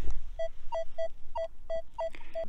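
Metal detector swung over a buried button at a 1750s colonial farmhouse site, giving a string of short, clean beeps in an even rhythm, about two per second, close and clear with a faint hum beneath.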